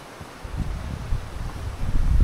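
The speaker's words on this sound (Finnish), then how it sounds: "Tuulee aika paljon." Strong wind blowing outdoors around a tent campsite on an island, a low rumbling gusty roar with faint rustle, growing louder toward the end with no voices.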